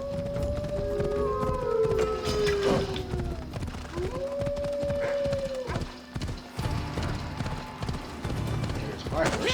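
Horse hooves clip-clopping in the video game Assassin's Creed Odyssey, steady rhythmic hoofbeats close by with whinnies, and a voice speaking over the gameplay sounds.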